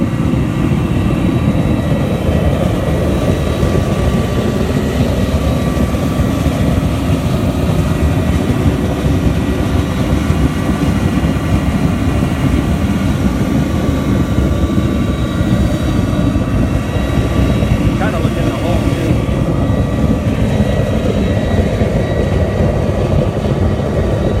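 A loud, steady roar of an iron melting furnace at an iron pour, continuous and close, with a broad rumbling hiss and no pauses.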